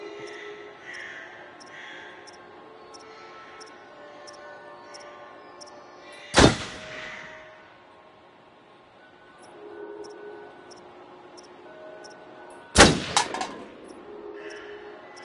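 Two loud, sharp gunshots ring out roughly six seconds apart at a shooting range in the Until Dawn video game, each with a short decaying tail, over a quiet background with faint music-like tones.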